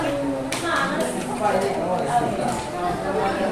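A classroom of students claps for a group, a busy patter of many hands running through the whole stretch while a teacher and children talk over it.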